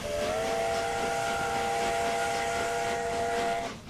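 A steam locomotive whistle in Train Simulator 2017 on a London to York run sounds one long, steady blast of clear harmonic tone for over three seconds over hissing background rumble, then cuts off.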